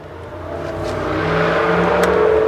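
Engine of a 2022 Ford Bronco Raptor revving and building steadily as it pulls away, a continuous rising drone with a whirring tone that grows louder over a couple of seconds.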